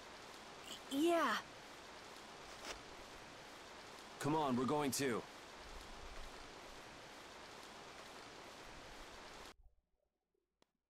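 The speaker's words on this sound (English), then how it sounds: "A repeating rain sound." Steady rain hiss loops continuously in the Tales of Vesperia game, a soft, even wash of falling rain under brief spoken lines, cutting out abruptly near the end.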